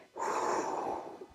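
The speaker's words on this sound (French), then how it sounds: "Inspirez par le nez." A single audible inhale through the nose during a home HIIT workout, a short breathy draw lasting about a second, close and alone.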